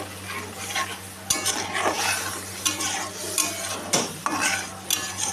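Spices being stir-fried (kosha) in a pan for dalia khichuri, with steady stirring scrapes of a spoon against the pan over a constant sizzle and several sharper clinks of utensil on metal, close and alone with no voices.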